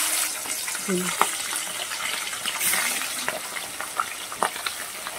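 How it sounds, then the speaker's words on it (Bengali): Large chicken pieces sizzle and crackle in hot oil for dum chicken, a steady close frying hiss with a few sharper spatters and brief clinks. "মাংসগুলোকে আমি সেখানে দিয়ে ভেজে নেব।"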